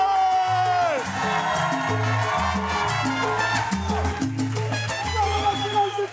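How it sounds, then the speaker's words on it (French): A comedy show audience cheers and whoops over loud music with a thumping beat, the crowd noise blending into the track as the comedian is introduced. "Un tonnerre d'applaudissements pour Oussama Fares"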